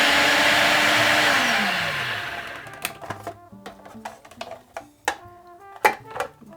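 A blender blitzing coarse beets with sugar and salt runs loud and steady for about two seconds, its motor pitch dropping as it winds down, followed by scattered clicks and knocks as it stops.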